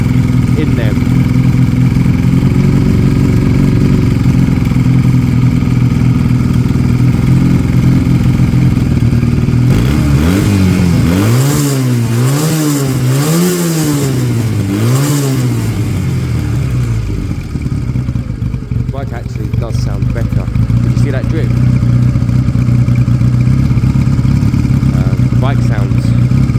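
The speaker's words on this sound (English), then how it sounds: "Bike sounds better there actually, yeah." A Sinnis Cruisestar motorcycle after a carburettor clean and balance, idling with a loud steady throb, then blipped through several rising and falling revs before settling back to idle, with people talking over it.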